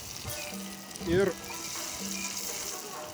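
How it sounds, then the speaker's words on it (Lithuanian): Carrots frying in oil in a kazan for plov, cooked outdoors over a fire, a soft steady sizzle running through the clip while a voice briefly speaks over it. "Tai dedam beveik visas morkas. Ir jos vėlgi turi apkepti truputuką ir suminkštėti."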